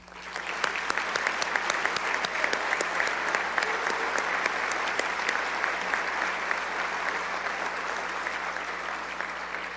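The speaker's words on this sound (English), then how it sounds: "can we give all the caregivers a great round of applause?" An award gala audience applauds caregivers at the Broyles Award, a loud, steady wash of many hands clapping that holds evenly from start to finish with sharp individual claps standing out.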